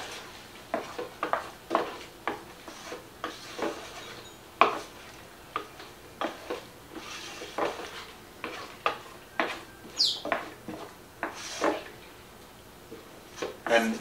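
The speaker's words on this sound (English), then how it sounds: "Now, I'm gonna stir this together." A spoon stirs mixed vegetable curry in a pot, giving a steady run of close scraping clinks and knocks against the pot, with no talk.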